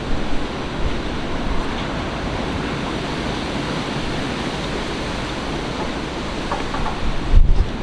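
Strong wind of Storm Kira and waves around a moored boat, a dense, steady roar of blowing air and water that holds loud throughout, with a sharper gust or knock near the end and no talk.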